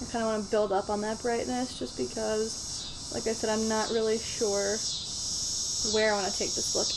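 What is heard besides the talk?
cicadas buzzing outside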